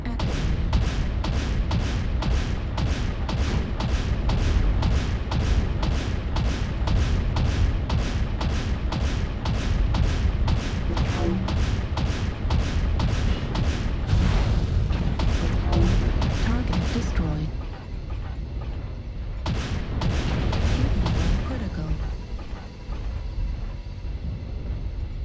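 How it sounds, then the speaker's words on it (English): Artillery strike in the video game HRPG: a rapid, dense barrage of loud booming blasts rolls on without pause for about seventeen seconds, then drops off and returns in a shorter burst before fading to rumbling aftermath. "Artillery strike."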